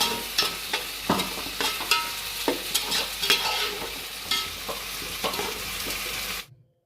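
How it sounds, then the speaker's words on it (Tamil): Biryani masala with yogurt being stirred and sautéed in a pan for kushka biryani: a steady frying sizzle broken by repeated scraping stir strokes, fairly close, with no one talking. "அப்புறம் தயிர் ஊற்றி நல்லா வதக்கணும்."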